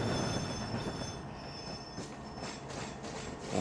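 In the Trainz game, a simulated Kakatiya Express runs along the track with a steady, fairly quiet rolling rumble, a high whine and soft rhythmic clatter toward the end, with no voices.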